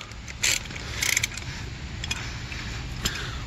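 A 19 mm socket turning a car wheel lock nut by hand, giving faint scattered metallic clicks and ratcheting rasps, a few brief louder bursts, close by over steady low hum.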